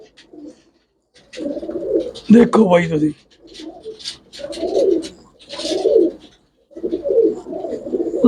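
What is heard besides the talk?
pigeons cooing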